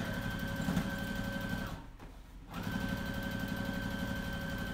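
A sewing machine runs steadily while stitching a throw pillow, with a brief pause midway before the needle drive resumes at the same even, close-up pace.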